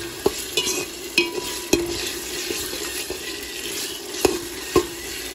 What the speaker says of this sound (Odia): ମସଲାଟାକୁ ଟିକେ ଭଲକି ଭାଜିଦେବା, ପୁରା ସ୍ମେଲ୍ ଗଲା ଯାଇକି ଭାଜିବା।